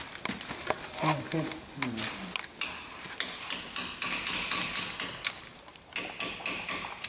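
Sharp metallic taps ring out in irregular bursts, with a hammer striking metal amid clinks and people talking nearby, during a Land Rover swivel removal.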